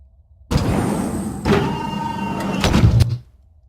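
A motorized door in the video game Arma 3 whirs shut, humming steadily with a knock partway through and a heavy clunk as it settles, then quiet.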